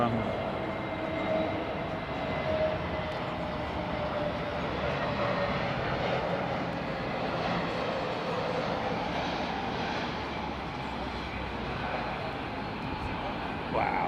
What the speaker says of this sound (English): We've got a Qatar 777 inbound, folks.